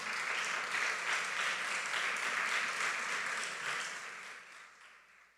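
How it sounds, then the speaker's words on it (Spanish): A church congregation applauds, a thick wash of many hands clapping at once that holds steady and then slowly fades toward the end. "Yo le daría un fuerte aplauso al Señor."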